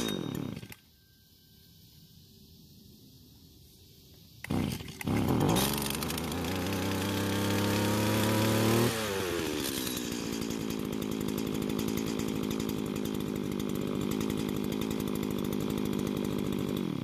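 A Stihl string trimmer's small two-stroke engine starts and runs loudly on its own, revving high for a few seconds, then settling into a steady, continuous idle-like drone close by.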